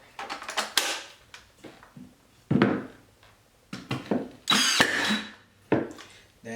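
A Ryobi 16 gauge nail gun fires nails into wood, producing several sharp, close mechanical snaps and clacks at irregular intervals with short gaps between shots.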